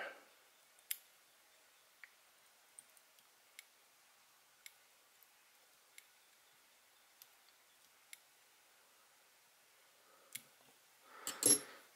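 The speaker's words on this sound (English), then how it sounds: "I can do a couple of cinching wraps and cut out that feather." Scissors snip a feather during fly tying for a blue-winged olive emerger, heard as a series of faint, sparse clicks spread over several seconds and then a louder, closer rustling snip near the end in an otherwise quiet room.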